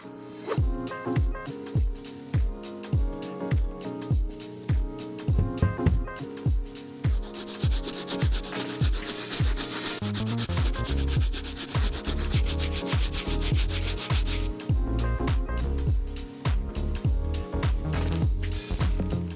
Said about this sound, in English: take care of this translucent sole using our stiff bristle brush